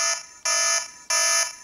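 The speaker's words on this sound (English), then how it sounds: "So this is alarm on low." A DOME siren set to its alarm tone at low volume sounds three loud, shrill electronic beeps in a steady on-off rhythm, close and alone.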